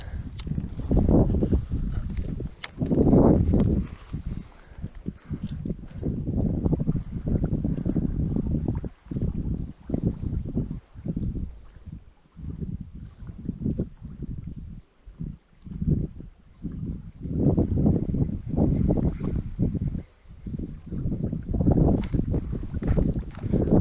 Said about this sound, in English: I like this wind we got coming in too.